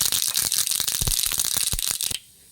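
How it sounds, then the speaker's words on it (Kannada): Mustard seeds spluttering in a tablespoon of hot oil, tempering for a curd sambar: dense, sharp crackling pops close at hand that stop abruptly near the end. "ಸಾಸಿವೆ ಚಿಟಪಟ ಆಗಲಿ"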